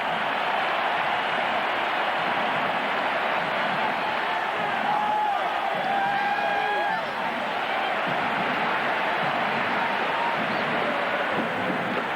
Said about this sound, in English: Listen to this crowd. Just deafening right now.